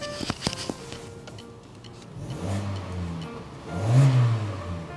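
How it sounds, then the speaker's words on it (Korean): A Kia K5 sedan's engine runs low and steady after a few sharp clicks, with a mild swell in its hum near the end; no voices. "얘도 엔진 상태는 진짜 조용한 겁니다"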